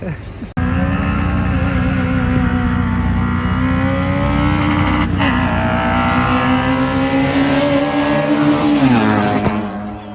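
Race cars roar past close to the roadside at a rally, a loud, steady engine drone that holds for most of the span and then sweeps in pitch near the end as the cars pull away.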